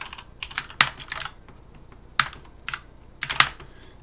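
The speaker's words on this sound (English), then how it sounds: "typing fast enough" Fast typing on a computer keyboard, close and crisp, with quick bursts of clicking keystrokes separated by brief pauses and a few louder key hits, no talking.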